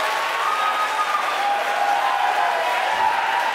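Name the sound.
SpaceX team cheering and applauding satellite deployment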